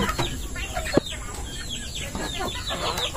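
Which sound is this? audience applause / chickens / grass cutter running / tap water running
chickens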